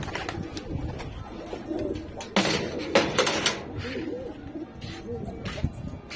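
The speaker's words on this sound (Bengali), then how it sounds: "এখানে সব নরপায়রা রয়েছে।" Male pigeons in a loft cooing in low, soft bursts close by, with a few sharp knocks and rustles mixed in and no voices.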